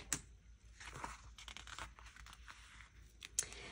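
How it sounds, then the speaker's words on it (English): Craft knife slicing through a paper planner number, producing scratchy tearing and crinkling bursts at close range, with a sharper cut near the start and another near the end. "I'm going to just take my craft knife and I'm just going to cut this 3 off of that 30"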